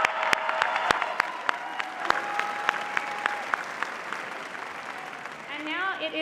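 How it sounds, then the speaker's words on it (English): At a Berkeley School of Education commencement, the audience gives student speakers another round of applause: sustained clapping with sharp individual claps standing out, a faint tone running beneath, and a voice emerging near the end. "Let's give them another round of applause."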